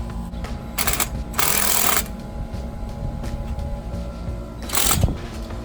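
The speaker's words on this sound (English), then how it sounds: "we take our drill and we tighten it down" A power drill tightens a bolt on a gate in short bursts with a mechanical rattle, loud and close, pausing between runs against a low hum.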